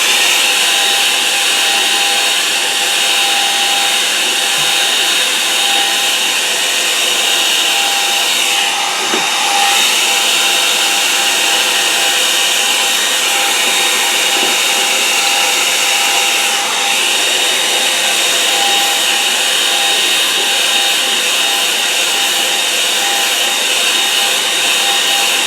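A hair dryer blows steadily on a watercolour painting of a lake scene, a loud, close, continuous whooshing roar that holds unchanged for the whole stretch, with no voices.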